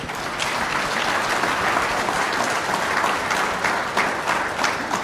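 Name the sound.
audience applause for convention panelists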